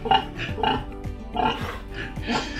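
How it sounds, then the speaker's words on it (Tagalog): Pigs grunt and oink repeatedly at feeding time on a farm, a close, irregular chorus of squeals and grunts with no talk. "papakain tayo ng ating mga baboy"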